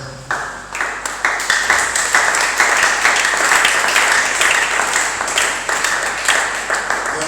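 A church congregation applauds and cheers in praise of God during a prayer service, a steady dense burst of clapping that swells and holds throughout, fairly loud and close.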